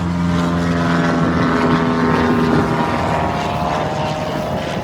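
An airplane passing overhead close to an airport, a loud sustained engine roar with a steady droning tone that fills the whole stretch and eases slightly toward the end.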